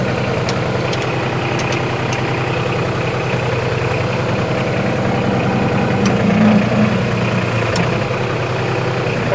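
A John Deere tractor engine idles in neutral, a steady low rumble that stays constant throughout at close range, with a few faint clicks on top and no speech.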